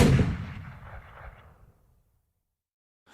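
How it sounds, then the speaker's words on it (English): Gunfire in the dark at a campsite before dawn: a heavy booming report at the start that rolls off into a long fading echo over about two seconds, followed by near silence and a faint noise at the very end. "the park's visitors were jolted awake by the sound of gunshots"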